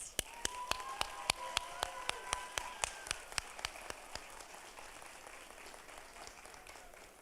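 Sparse, rhythmic clapping from an audience at a recognition ceremony, honoring the Saddleback College cohorts, rings out as distinct, evenly spaced claps that thin out and fade into a soft roomy wash.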